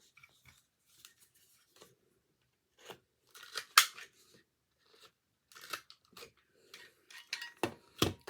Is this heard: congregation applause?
no